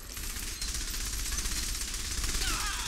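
Rapid, sustained gunfire from Saints Row The Third rattles on at moderate volume as a dense burst of shots with no pause.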